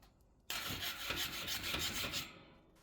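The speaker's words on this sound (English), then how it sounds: "start rubbing it along with these bricks. And it takes off all the excess, it takes off any of the rust" A grill-cleaning brick rasps steadily against a rusty barbecue grill in a continuous, close, gritty scrubbing with repeated back-and-forth strokes, heard on its own without speech.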